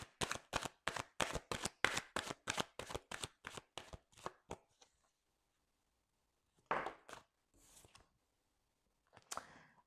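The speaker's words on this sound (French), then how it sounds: "Et on va tirer également cette carte pour vous." Oracle cards drawn and shuffled from a deck during a tarot-style reading: a quick run of about fifteen crisp, evenly spaced riffling snaps, then quiet, with a few softer rustles and card slaps afterwards, close and clear.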